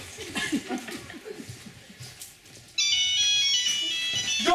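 After a stretch of chuckling and laughter, a phone ringtone suddenly starts and keeps ringing loudly and steadily to the end.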